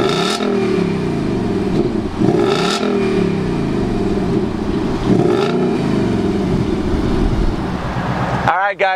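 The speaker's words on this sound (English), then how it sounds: "Let's go ahead and fire it up and hear those 460 ponies underneath the hood." A 2019 Ford Mustang GT California Special convertible V8 runs loud and close with a deep, steady rumble, throttle blips swelling around the second and fifth seconds, before cutting off sharply near the end.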